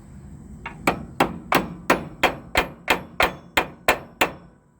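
Eleven loud, evenly spaced metal hammer blows ring out one after another, beating on a stuck part of a CCKW truck during a parts-pulling restoration, with no talking in between.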